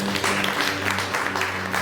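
Church congregation clapping during a sermon, a brief burst of dense, steady applause filling the space with a faint hum underneath.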